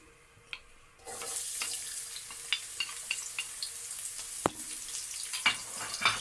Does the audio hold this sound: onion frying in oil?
yes